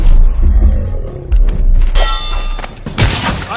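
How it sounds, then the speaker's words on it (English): Sword blocking clashes in Dishonored melee combat, several loud metallic clangs and ringing impacts with thuds and a grinding scrape, spread across a busy fight mix. "The game's combat with the sword, the melee combat, involves blocking and counterattacks if the blocking is timed correctly."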